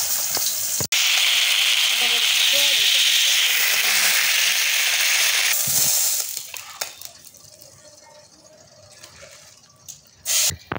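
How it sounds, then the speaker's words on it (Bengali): Pieces of rohu fish fry in a pan with a loud, dense sizzle that fades after about six seconds into quieter handling noises, followed by a brief burst of sizzling near the end. "মাছটা ভাজা হতে হতে আমি এদিকে মশলাটা মেখে দিই"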